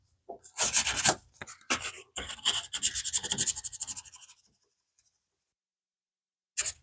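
Cheap Harbor Freight sandpaper rubbed by hand in a series of short, rough rasping strokes, close and fairly loud, stopping for a pause before one last brief scrape.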